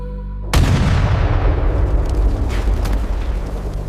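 A heavy cannon blast booms suddenly after a brief hum, then rolls into a long, loud rumbling roar with crackling debris, like artillery fire at an 1872 execution in Punjab.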